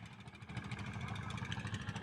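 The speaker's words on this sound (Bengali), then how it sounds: "ওই যে একটা নৌকা আসতেছে, এপাশে ট্রলার আসতেছে।" A trawler boat engine on a river in Bangladesh, a faint, low idling drone with a steady mechanical pulse, heard at a distance without talk.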